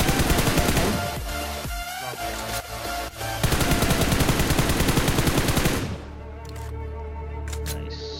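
Rapid automatic gunfire from a battle-royale shooter, dense bursts of shots crackling continuously for several seconds before cutting off, followed by quieter game ambience and a few faint clicks.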